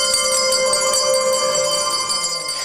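Bells and chime bars ring in a steady shimmering wash, with bright sustained tones layered over faint shaken percussion, continuous and fairly loud throughout.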